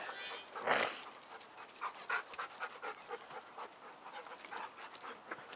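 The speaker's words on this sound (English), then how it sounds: "Backyard dog fight." Dogs fight, scuffle and whimper in a backyard, with high yips and panting over a rustling background, fairly quiet and continuous.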